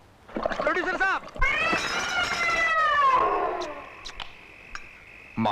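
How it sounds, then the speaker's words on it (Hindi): A cat meows several times in a scene from a 1988 Bhojpuri horror film, drawn-out wavering cries close and loud, followed by quieter background sounds and a brief noise at the end. "इस बिल्ली को खाने की टेबल से दूर रखा करो"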